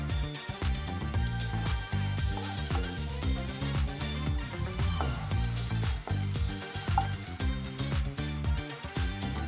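Cashews and raisins frying in ghee in a pan, giving a steady crackling sizzle close by, with music playing over it throughout.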